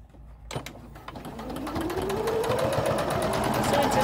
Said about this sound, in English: Top stitching is where I sew close to the edge.